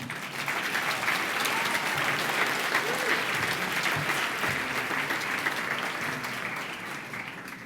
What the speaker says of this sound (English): the people at GOSO deserve a round of applause